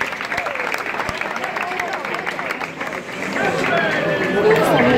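Applause mixes with a lively outdoor crowd at the 2017 Gigli festival in Nola, with clapping, shouting voices and chatter swelling toward the end.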